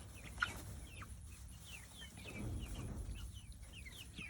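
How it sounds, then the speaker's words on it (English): Rhode Island Red rooster and chickens on a homestead, with soft scattered clucks and short chirpy calls over steady low background rumble, fairly quiet and moderately distant. "this is the Rhode Island Red Rooster"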